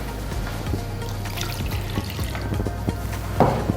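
Water is poured steadily into a pot of dry-toasted millet, about two and a half cups going in as one continuous, fairly close splashing stream with a brief louder surge near the end; no one speaks.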